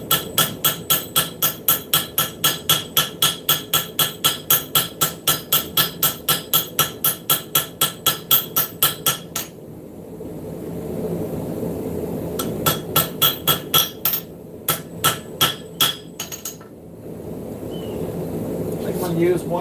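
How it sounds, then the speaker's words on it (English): A small hammer strikes hot metal during forging in a shop, a long fast run of evenly spaced ringing blows, a pause, then a few shorter irregular bursts of strikes, loud and close. "Let's use this little hammer here because I don't need a very heavy hammer"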